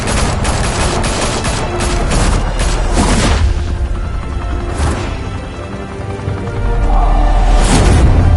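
Heavy gunfire and booming explosions in Batman: The Telltale Series, a loud, continuous barrage of fusillade shots and blasts through the whole stretch with no talk.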